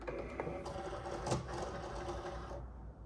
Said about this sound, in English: We're gonna load this into the machine.